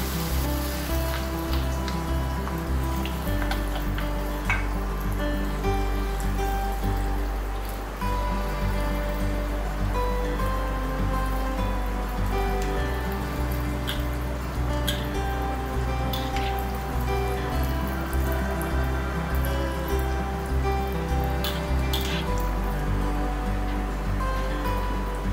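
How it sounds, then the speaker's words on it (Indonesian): Strips of cakwe fried dough deep-frying in hot oil give a steady, dense sizzling crackle that runs unbroken and close up for the whole stretch, with a low tonal hum underneath. "Oke, kita goreng cakwe."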